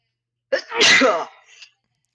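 A single sharp sneeze, close and loud, with a quick intake then a burst that trails off, followed by silence.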